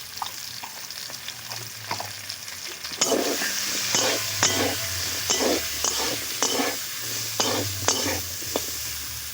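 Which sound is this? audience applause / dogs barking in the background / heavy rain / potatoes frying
potatoes frying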